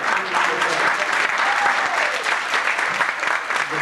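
Audience applause from a crowd at a Melave Malka gathering in Skokie, a steady, dense clapping that fills the space from start to finish.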